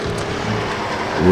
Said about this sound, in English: Stephen Hall makes a charge, looks on the low side of the number 64 card for the last lap